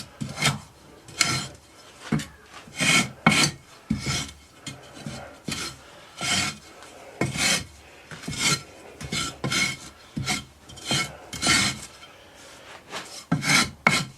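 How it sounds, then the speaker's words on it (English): A tool scrapes loose sand flat across the top of a sand-casting mould, repeated rasping strokes coming close and loud in an uneven rhythm of roughly a dozen passes. "Strip it off flat, scrape it flat."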